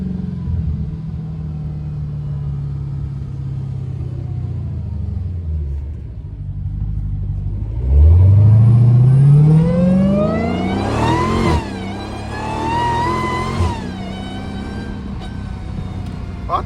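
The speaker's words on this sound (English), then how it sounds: "I love driving this car on the freeway." A Dodge Hellcat accelerating on a freeway: a low steady rumble gives way to a loud rising engine roar that climbs in pitch through the gears, with a brief shift and another pull before easing off.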